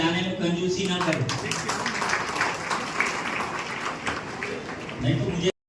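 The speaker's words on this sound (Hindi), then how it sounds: "ताली बजाने में कंजूसी ना करें" A hall audience at a Mansuri Jamaat prize-giving ceremony in Nagpur claps in a steady, dense wash of applause that holds for several seconds before stopping abruptly.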